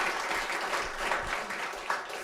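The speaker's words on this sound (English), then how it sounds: "Let's please give all of our alums a round of applause" Alumni being cheered at a livestreamed admits event, a steady round of clapping from a modest crowd, fairly close and continuous for the whole stretch.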